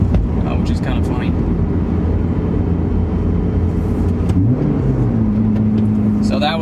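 Toyota Matrix XRS engine droning inside the car during a fifth-to-fourth downshift, a loud, steady low hum that rises in pitch near the end as the revs climb, with road and wind noise and a voice speaking over it.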